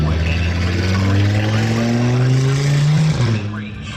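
Race cars at the Sydney Euro Motor Festival passing down the strip, loud engine roar with rising revving tones and a tire squeal, swelling as they pass then fading away, with a voice talking over it.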